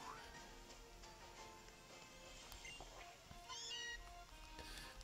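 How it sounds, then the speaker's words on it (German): Alolan Meowth cry from Pokémon Sun/Moon, a short rising game-creature meow heard over background game music, with a person talking faintly underneath. "Ein Alola-Mauzi."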